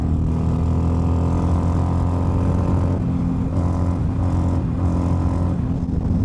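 A Harley-Davidson motorcycle engine runs loud and steady at high revs, above 3,500 RPM, with a persistent fault rattle, a dense droning hum that dips briefly around the middle before holding on.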